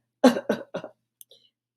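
A storyteller voices a small steam engine coughing in coal dust, three quick, close coughs followed by silence.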